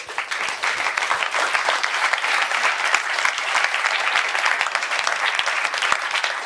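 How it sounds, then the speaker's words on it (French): A conference audience at the Gaîté Lyrique in Paris applauds two speakers after a talk on nudges, with sustained crisp clapping from a large crowd, even and lively for over six seconds. "Merci beaucoup donc à Eric et à Stéphane qu'on peut applaudir"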